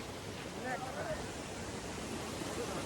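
A waterfall near a village in the hills of Terhathum, Nepal, rushes as a steady, fairly faint broadband roar of falling water with no breaks, the constant wash filling the whole stretch.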